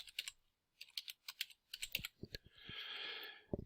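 An email address is typed on a computer keyboard in quick bursts of close, crisp key clicks with short pauses, then a longer hissing noise near the end before a few more taps.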